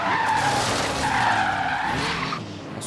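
A car brakes hard in Forza Horizon 3, its tires skidding in a loud, sustained squeal that wavers in pitch for about two and a half seconds before easing off, with engine noise underneath.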